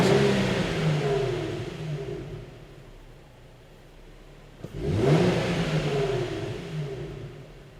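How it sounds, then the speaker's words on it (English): A Nissan or Infiniti engine revs up loudly during a throttle relearn, settles back to a low rumbling idle, then revs sharply again with rising pitch before easing down; no talking. "we're going to rev the engine up a few times"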